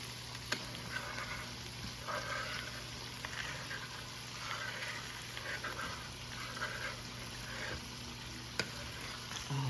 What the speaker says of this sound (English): See how that corned beef is crisping up?